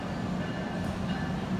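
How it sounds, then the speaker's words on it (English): A South Shore Line Highliner train arrives at Millennium Station with a steady, dense rumble and hum of rolling railcars, a continuous heavy drone and no voices. "I'm gonna film the South Shore Highliner arriving at Millennium Station"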